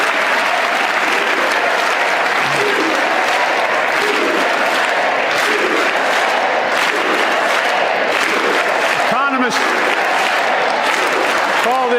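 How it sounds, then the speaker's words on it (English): A crowd at a Joe Biden speech erupts in loud, continuous applause and cheering, a dense wash of clapping and voices sustained across the whole stretch, with chanting blended in. "they start cheering USA"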